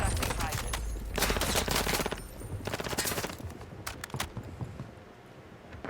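Rapid bursts of automatic gunfire crackle through a Call of Duty Warzone match, with clustered volleys and scattered shots at moderate loudness over faint game ambience.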